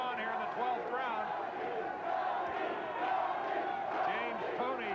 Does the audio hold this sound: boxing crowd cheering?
yes